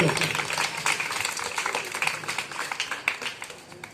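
Schoolchildren clap together at an assembly, a fairly quiet, uneven patter of hands that rises and fades, with some talk mixed in beneath it.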